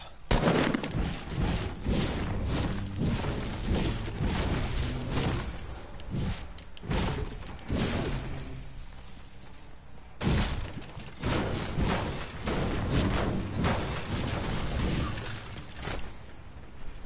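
Video game gunfire crackles in dense bursts of rapid shots and sharp cracks, steady and busy throughout with a few brief lulls.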